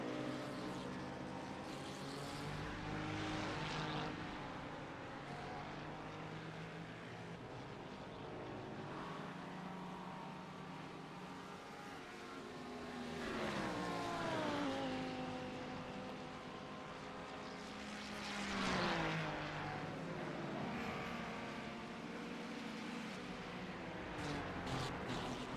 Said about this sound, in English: Hear the throttle modulation coming through South Bend.